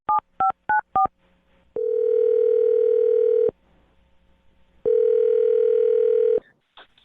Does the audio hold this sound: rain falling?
no